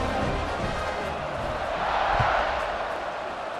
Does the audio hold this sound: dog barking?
no